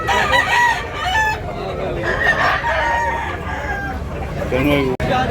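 Several roosters crow one after another, loud and close, with clucking hens and bits of nearby talk, in Tabunok, Talisay, Cebu.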